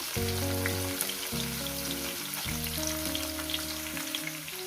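Green chillies sizzle steadily in a pan, a continuous close crackle over a low sustained tonal drone throughout.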